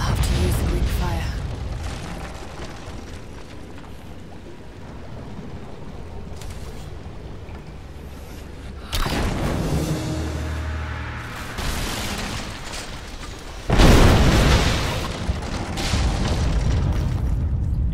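Greek fire vessel bursting in Rise of the Tomb Raider, a deep booming explosion at about nine seconds and a louder second blast near fourteen seconds, over steady game ambience and rumble.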